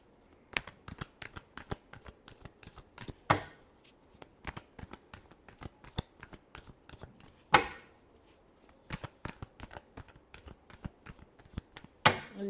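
Tarot cards being shuffled by hand in a quiet room, a rapid series of soft riffling flutters and taps with a few sharper card snaps.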